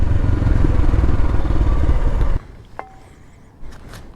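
Royal Enfield Himalayan motorcycle, a 2022 model, riding on-road, with a loud steady engine and wind roar for about two seconds before it cuts out abruptly, leaving faint clicks and thumps.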